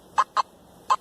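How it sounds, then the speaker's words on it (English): Three short, squawky electronic beeps from a metal detector, two close together and a third after a pause, sharp and clear against a quiet background. "a little squawky signal"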